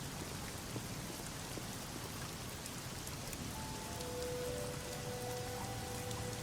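Steady rain falls throughout a scene in the video game Black Mirror III, a dense continuous hiss with a faint low rumble and thin tonal lines entering in the second half.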